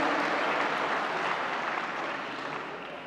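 An audience claps at the opening session of a legal and political forum in Lisbon, a dense, even wash of applause from a large hall that holds steady and then slowly fades.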